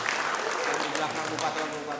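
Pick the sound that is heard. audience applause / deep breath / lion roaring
audience applause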